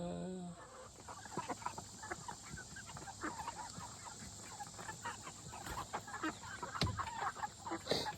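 Chickens cluck softly and steadily in the background, a quiet, scattered chorus of short calls with occasional louder clucks.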